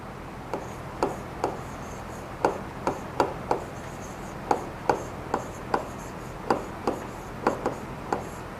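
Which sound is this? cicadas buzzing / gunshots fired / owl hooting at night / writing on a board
writing on a board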